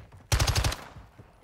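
Burst of automatic gunfire from a gun in Call of Duty Warzone on Ashika Island: a loud rapid run of about six shots over half a second, followed by fainter scattered reports and game sounds.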